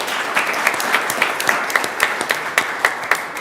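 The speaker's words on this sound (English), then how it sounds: "Not here, but we'll clap for him." Steady applause from an audience at a school board meeting honoring a tennis doubles player, a moderately loud wash of many hands clapping throughout with no talk.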